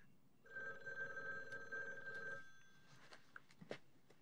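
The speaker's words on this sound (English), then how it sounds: "Phone's ringing right now." A telephone bell ringing, a sustained electronic trill lasting about two seconds, followed by quieter clicks and handling sounds.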